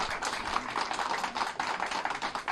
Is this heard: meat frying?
no